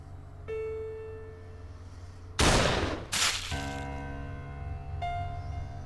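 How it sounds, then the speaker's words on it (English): A gunshot in the video game The Cat Lady comes as a sharp loud blast with a second burst right after, set against an ongoing droning ambient tone with sustained notes. "I will always remember the sound that gun made"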